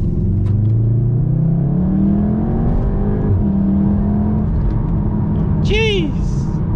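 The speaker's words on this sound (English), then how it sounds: "if you really push this car, you can actually get it to kick out a little bit" A Volkswagen Golf R 7.5 pulls hard through a turn at night, its engine note climbing in a loud sustained rev with rumbling road noise, heard from inside the cabin, ending in a short voiced exclamation.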